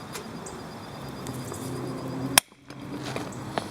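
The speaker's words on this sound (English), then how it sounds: "Okay, and with that pop, we got the bushing popped out." A car control arm bushing bursts free under a hand-cranked press tool turned with a breaker bar: one sharp, loud pop, followed by a short hush and then faint shop background.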